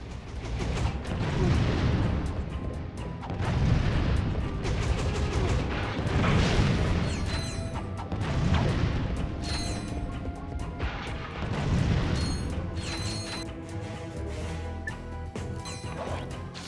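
Bomb glove explosions in Ratchet & Clank: Going Commando: a series of heavy booms and crashes arriving every two to three seconds, loud and near, with clanking mechanical clutter between them and no talk.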